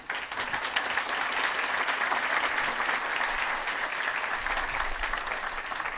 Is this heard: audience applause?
yes